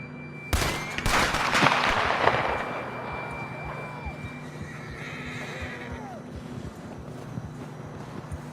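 A horse in Red Dead Redemption 2 lets out a rising, wavering whinny in the middle of the clip, after a sharp bang near the start, with hoof clip-clops and a low ambient rumble throughout.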